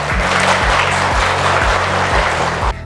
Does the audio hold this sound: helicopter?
no